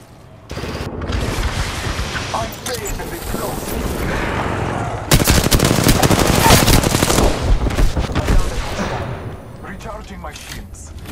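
Gunfire in Apex Legends, sustained rapid automatic bursts with a loud dense stretch in the middle, mixed with game effects and players talking.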